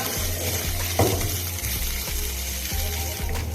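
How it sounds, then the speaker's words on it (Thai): Garlic, coriander root and pepper paste stir-frying in hot oil over medium heat, a steady close sizzle with scraping stirs and a few clinks of the utensil against the pan, no voices. "เราต้องผัดสามเกลือจนหอมขั้นตอนนี้ใช้ไฟกลางนะคะ"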